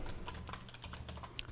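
Quick soft clicks of typing on a computer keyboard, a short burst of close keystrokes at a low level.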